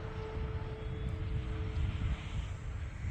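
An FMS P-47 Razorback RC model airplane flies overhead, a faint, steady propeller whine over breezy outdoor rumble with no talking.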